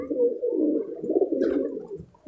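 Several pigeons cooing close by on a rooftop, a continuous low warbling coo with overlapping calls and no talking.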